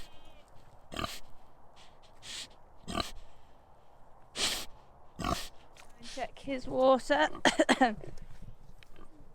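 A pig on a farm snorts and oinks close by in several sharp bursts and a run of grunts, while a person speaks briefly between them.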